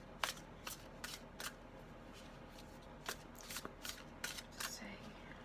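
Crystal oracle cards are shuffled by hand in quick, crisp riffling bursts, separated by short pauses, close and fairly quiet with no talk.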